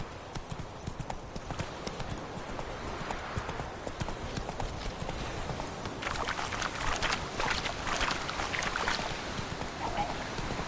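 Horse hooves clip-clopping in the video game The Witcher 3, a steady rhythmic trot of hoofbeats over a soft rushing background, growing slightly busier and louder in the second half.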